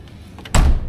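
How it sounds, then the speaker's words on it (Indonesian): A Mazda Astina taxi's car door shuts with a single solid thunk after a quiet moment of handling, close and loud. "Kalau pintu normal nih, kita buka nih nggak akan ngelawan nih."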